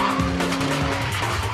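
A Mosler GT race car skids at turn 1 during an Australian GT session on the Clipsal street circuit, its tires squealing loudly over a roaring engine for a brief, continuous burst.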